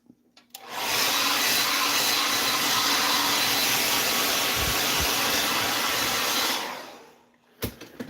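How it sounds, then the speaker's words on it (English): A hair dryer blows excess weathering powder off a Kato Union Pacific SD90MAC model locomotive, switching on with a click into a loud, steady roaring whoosh for about six seconds, then cutting off with a clunk. "I can find my blow dryer."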